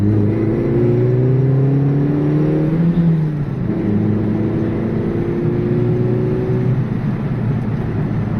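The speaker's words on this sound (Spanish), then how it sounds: "este pequeño motorcillo 1600 de 100 caballos, sin ningún tipo de filtro, ni catalizador, ni nada de nada, suena como un superdeportivo de los de ahora" A classic car's 1600 cc, 100 hp engine with no filter or catalytic converter revs loudly close by, its pitch climbing, dipping at a gear change, then rising again in a strong, steady drone.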